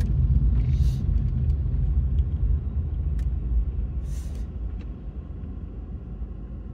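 A car drives slowly, a little under 50, along a snowy road in Canada after heavy snowfall, its low engine and road rumble steady and close inside the cabin, with a few faint clicks and no talk.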